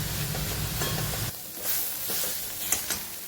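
Tomato and vegetable mixture for pav bhaji sizzling in a pan, a steady hiss with soft stirring scrapes, the low rumble dropping out partway through while the frying continues with a couple of small clinks.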